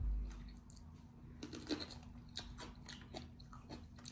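Close, quiet chewing and biting on a hot lemon during a spicy chili tasting, with soft crunching and wet mouth sounds over a low hum.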